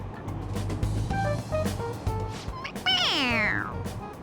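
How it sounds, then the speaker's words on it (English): A toy cat in Persona 5 Royal meows when its head is pressed, giving a single bright, rising-and-falling electronic meow near the end, preceded by soft in-game chatter and background music. "It meows when you press on its head."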